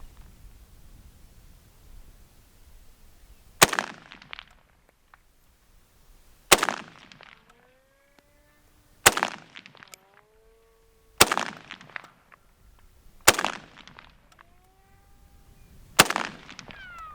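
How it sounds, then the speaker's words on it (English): Six loud, sharp SKS rifle shots ring out outdoors at a target 150 yards away, each spaced a few seconds apart and followed by a ringing echo and rustling in between. "I'm gonna take a few shots at my 150-yard target."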